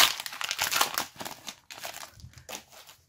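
Crinkly foil wrapper of a Pokémon Tempête Céleste booster pack being torn open up close, a run of bright crackling rips and crumples that taper into quieter rustling toward the end.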